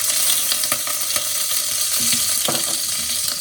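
Garlic sizzling in hot oil in a pan as rampe (pandan) leaves and curry leaves are tossed in for Sri Lankan yellow rice, a steady loud crackling fry with scattered sharper pops and stirring clinks.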